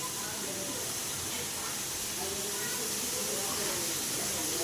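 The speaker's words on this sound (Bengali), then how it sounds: "আমি এখন আলুগুলো দিয়ে দিচ্ছি" Thinly sliced potatoes hitting a hot pan for aloo chingri chorchori, a steady loud hissing sizzle that holds throughout with a faint voice under it.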